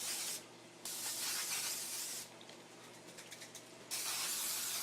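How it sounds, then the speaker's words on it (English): A can of cooking spray hisses steadily onto a baking pan in two long close bursts separated by a short pause, with no talking. "I am going to spray it with a little bit of cooking spray just so the dough doesn't stick to it"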